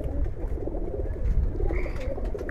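A black Chini Rampuri pigeon coos in low, throaty bursts that swell midway, close by and moderately loud over some background noise.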